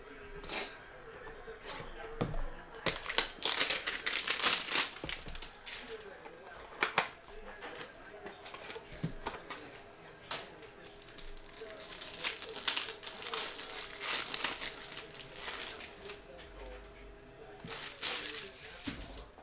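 Packs of 2021 Prestige football cards being ripped open during a hanger box break, with repeated crinkling and tearing of foil wrappers in irregular bursts, close and fairly quiet.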